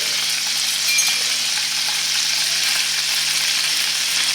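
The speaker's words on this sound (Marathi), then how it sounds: "छान गोल्डन ब्राऊन होईपर्यंत हे पनीर आपण फ्राय करून घेऊया" Paneer cubes frying over medium to high heat until golden brown, giving a steady, close hiss of sizzling oil that runs unbroken throughout with faint stirring clinks.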